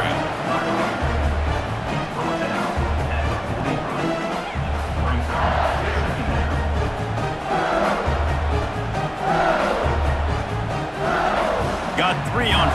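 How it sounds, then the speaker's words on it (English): A football crowd on its feet in a stadium roars and yells continuously, loud and dense, while an announcer talks over the noise. "for an entire game, they are on their feet, yelling, screaming"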